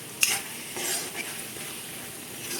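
A spoon stirs yellow cucumber and tomato curry freshly sprinkled with chopped coriander in a pan, giving a close, steady sizzle with a scrape near the start.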